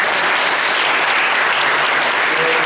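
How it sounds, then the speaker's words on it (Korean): Dense, steady applause from a conference audience after a university sports-science presentation on collegiate baseball players, filling the room loudly and evenly throughout with no talk over it. "다시 한번 뜨거운 박수 부탁드립니다"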